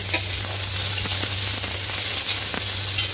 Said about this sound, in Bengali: পেঁয়াজটাকে একটুখানি ভালো করে ভেজে নেবো। এবার এরপরে কেটে রাখা টমেটোটা দিয়ে দেবো।